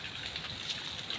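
Light drizzle falling over an outdoor parking area, a soft steady hiss of fine rain with no distinct drops, faint and continuous throughout.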